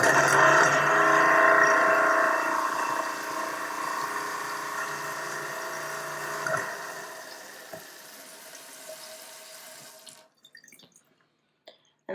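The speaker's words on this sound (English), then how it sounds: "then I will run the water and let the disposal grind it up" A kitchen sink garbage disposal grinds a frozen lemon under running water, making a steady loud whirring hum that slowly fades and stops, followed by a few faint drips and clicks.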